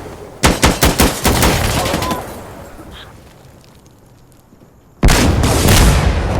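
Gunfire and grenade explosions from the military shooter game Insurgency: Sandstorm: a rapid string of loud close shots opens, the echo fades to near quiet, then a sudden heavy blast or burst of fire hits and keeps roaring to the end.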